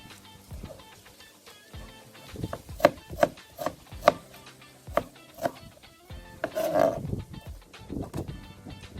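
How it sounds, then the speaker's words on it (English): An onion chopped on a cutting board for Jamaican jerk pork, heard as a close series of sharp knife knocks, steady at first and then more irregular, with a short scraping sweep near the end. "So I'm going to chop up my onion"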